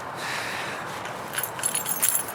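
Keys being picked up, a short burst of bright metallic jingling that starts partway through after a quiet stretch and grows closer and louder toward the end.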